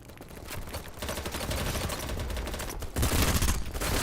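Gunfire in the multiplayer shooter BattleBit, a loud sustained stream of rapid automatic shots with a heavier burst near the end and no talking.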